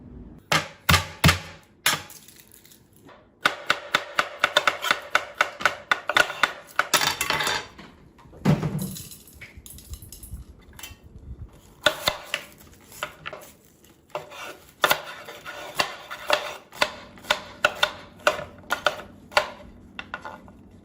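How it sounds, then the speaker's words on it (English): Onions and peppers being chopped for carnitas, with a long run of close, sharp knife strikes on a cutting board in irregular bursts, mixed with occasional clatter of utensils. "we've got our onions chopped, we've got all of our peppers together"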